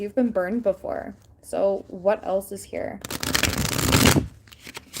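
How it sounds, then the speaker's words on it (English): A deck of tarot cards is shuffled by hand, a dense papery riffling burst lasting just over a second, heard right after someone finishes speaking. "I just put all the cards back and we are shuffling again"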